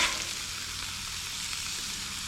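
Sablefish frying skin-down in ghee in a pan, giving a steady, close, bright hiss of sizzling oil that stays even throughout, with no talking.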